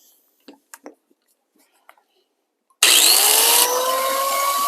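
Cutting a snaplock metal roof panel for a solar installation: a few soft taps and handling noises give way to a loud, sustained, harsh cutting whine that continues to the end.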